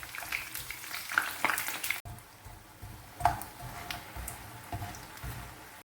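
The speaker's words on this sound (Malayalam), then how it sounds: "എണ്ണ ചൂടായിട്ടുണ്ട്. ഇതിലേക്ക് നമുക്ക് ഫ്രൈസ് ഇട്ട് കൊടുക്കാം." Fries dropped into hot oil in a pan sizzle and crackle at moderate level, with a brief louder burst partway through and a steady bubbling fry continuing to the end.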